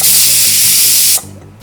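A pressure cooker of mutton whistles on the stove: a loud, steady hiss of escaping steam over a rattling pulse, cutting off sharply after about a second into near quiet.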